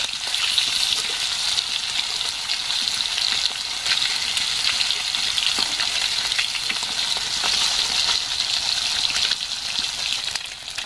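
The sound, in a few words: fish frying in pan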